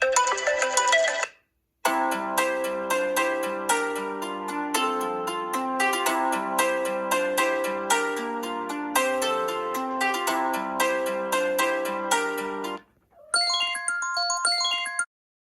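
A ringtone plays from an iPhone's built-in speaker during a speaker test, a bright repeating melodic pattern with a short pause near the start and another before a final burst, loud and close with no voices.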